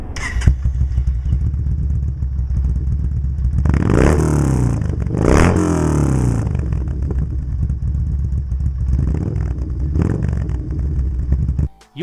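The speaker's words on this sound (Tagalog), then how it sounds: "I really love the sound of the rumbly V-twin engine." Bolt V-twin motorcycle engine rumbling close by with a deep, loud, continuous idle, rising in two short revving swells partway through before dropping back and cutting off at the end.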